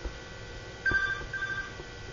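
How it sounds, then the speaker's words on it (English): A cell phone rings faintly in the background of a room, a short electronic tone that pulses briefly and then repeats. "And that is my cell phone, if you can hear it in the background"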